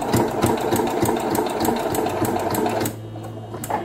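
A sewing machine stitching stiff felt at a slow pace, a steady rapid mechanical chatter close by that slows and drops to a low hum near the end.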